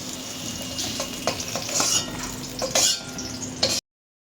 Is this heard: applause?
no